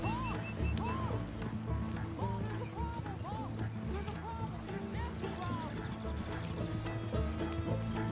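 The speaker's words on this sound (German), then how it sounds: "Oh, die Pferde kommen automatisch." Horses in Red Dead Redemption 2 trotting with continuous rhythmic hoof clip-clops over game music, with a few whinnies and a voice talking faintly beneath.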